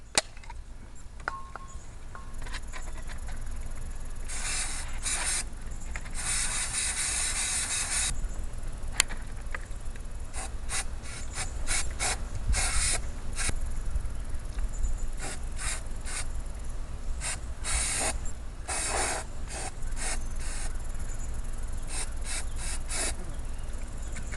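A plastic popcorn bottle with grooves being spray-primed, the aerosol can hissing in repeated short and longer bursts, some clustered rapidly, over a steady low background hum; nobody speaks.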